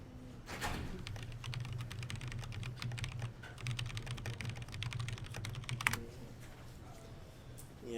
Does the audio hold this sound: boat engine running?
no